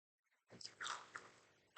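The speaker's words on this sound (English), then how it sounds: "The cucumbers, I gotta chew 'em." Someone bites into and chews cucumber close to the microphone, a quiet crisp crunch followed by a short stretch of soft chewing, with no talk.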